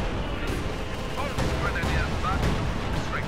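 A game ISU self-propelled gun firing amid a busy battle, repeated heavy booms and gunfire cracks layered over constant rumbling, with a voice talking over the action.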